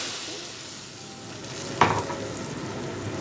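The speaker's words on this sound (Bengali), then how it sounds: "কড়াইতে তেল দেওয়া হয়ে গেছে," Cooking oil sizzles steadily in a wok during preparation of a spicy boal fish curry, with a sudden louder burst of sizzling partway through, heard alone without talk.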